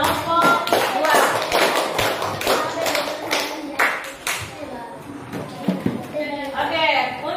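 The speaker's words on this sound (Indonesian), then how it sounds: "silakan beri aplaus untuk kelompok 2" Classroom group of students clapping together in applause, a dense run of hand claps with chatter and movement mixed in, moderately loud and fairly close.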